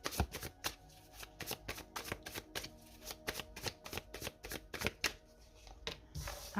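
Tarot cards are shuffled by hand in a quiet room, a long series of quick papery riffles and flutters, close and steady, with no talking.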